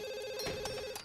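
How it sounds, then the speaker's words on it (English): A house phone in The Sims 2 rings with a steady electronic trill, and the tone carries through the whole short stretch with no voices over it. "And the phone's ringing."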